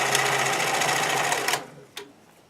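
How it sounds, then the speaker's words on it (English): Sewing machine stitching stretchy swimwear fabric in a rapid, steady run that stops abruptly after about a second and a half, followed by a single brief click, close and fairly loud. "get lined up and pinned, stretch and sew"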